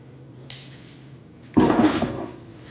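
A cast iron pan is handled on a stovetop while cooking chicken and gravy, a light metallic clink followed a second later by a louder, ringing scrape and clatter of heavy iron that fades out.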